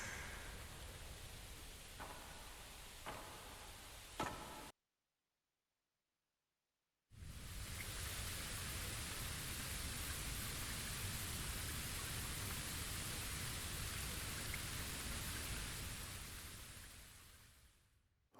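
Rain in the video game Bleach Rebirth of Souls: a steady, dense hiss of heavy rainfall with a few faint clicks, cut by a moment of silence, then pouring on evenly before tapering off.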